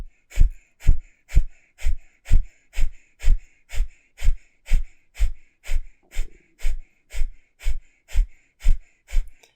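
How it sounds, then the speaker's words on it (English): Rapid, rhythmic breath of fire, the kundalini breathing technique, with about two forceful nasal exhales per second, each a short puffing snort in an even pulse, close and clear. "you're going to do breath of fire here"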